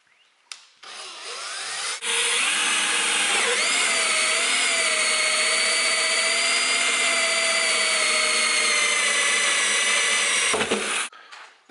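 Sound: power drill drilling hole in plastic barrel

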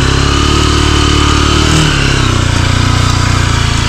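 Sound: motorcycle engine started and revving on muddy ground

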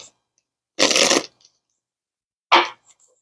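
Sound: shuffling a Moonology oracle card deck

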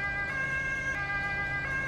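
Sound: fire engine siren in the Roblox game Emergency Emden

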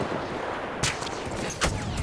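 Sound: gunshot in video game Battlefield 1

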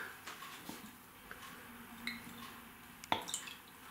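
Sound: drops of Worcestershire sauce added to a marinade

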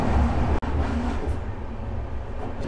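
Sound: Araku Valley train running on track

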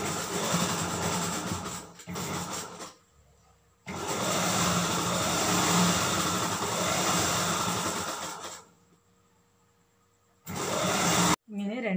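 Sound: sewing machine stitching side seam of dress

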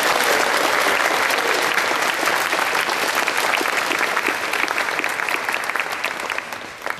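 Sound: applause at a wedding

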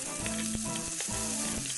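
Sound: onions and tomatoes sautéing in a pan

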